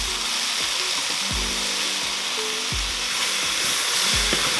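Chopped cilantro and spices sautéing in a pot for chicken fajita soup, a steady broadband sizzle with occasional low thumps and scrapes of stirring, close and continuous with no talking.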